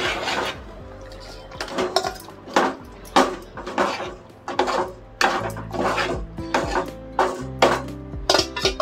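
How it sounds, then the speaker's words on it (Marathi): A spoon stirs mango raita in a cooking pot, making close, irregular scraping clanks and knocks against the metal, with short gaps between strokes. "चांगलं ढवळून घेते"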